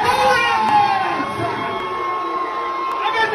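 A crowd cheers and whoops loudly and continuously as a performer takes the stage for a live performance in Cayman, with a bright, sustained roar throughout.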